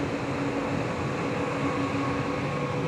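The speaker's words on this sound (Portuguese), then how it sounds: "Ah, olha lá o trem, gente." A train passes behind the person speaking outdoors, a steady rumbling drone of wheels and carriages with a sustained low tonal hum, loud and unbroken throughout, with no voices.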